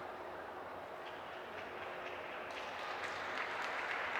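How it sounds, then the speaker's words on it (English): A crowd at a table tennis match cheers and applauds, a dense steady clatter of clapping that swells slightly louder toward the end, heard from a distance without talk. "Crowd giving some encouragement to Suh."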